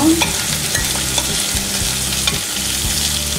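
Tomato, carrot, green chillies, black pepper and chili powder are mixed in a hot pan for a bread pizza topping, a loud, close sizzle under steady rhythmic scraping of a spoon, with no talking.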